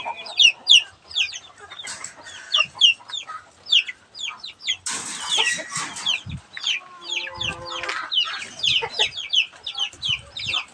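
Thirteen chickens, four adults and nine chicks, cluck and chatter nearby in a busy, overlapping stream of short calls, with rustling and a burst of louder squawking midway.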